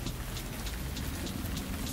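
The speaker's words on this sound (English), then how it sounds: "We got a little bit of rain, but we'll see what's out there." Rain falling steadily outdoors at a ranch, a dense, loud hiss of drops with scattered closer patters and no voices.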